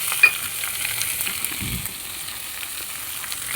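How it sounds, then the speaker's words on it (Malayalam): Sliced onion sautés with ginger, garlic and curry leaves in a pan for egg curry, a soft, even frying hiss with a brief low stir midway, close and unaccompanied by speech. "ഇഞ്ചി വെളുത്തുള്ളി കറിവേപ്പില ഇട്ടതിന് ശേഷം സവാള അരിഞ്ഞത് അതിലേക്കിട്ട് ഒന്ന് വഴറ്റിയെടുക്കണം"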